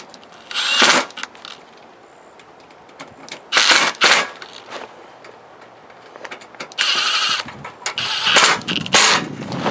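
A power driver tightens the screws of a generator interlock from the back of the panel in several short, loud whirring bursts with quiet pauses between them, close by.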